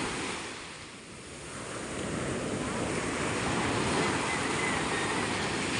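Ocean waves break and surge continuously along a shore, a broad roaring wash that swells and stays loud throughout, mixed with wind buffeting the microphone.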